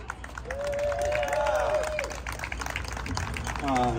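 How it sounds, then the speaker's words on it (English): Crowd at a No Kings Day protest rally in Louisville, Kentucky, giving applause mixed with whoops and cheers. The clapping stays steady throughout, with voices talking and shouting on top. "Give him a round of applause, everybody."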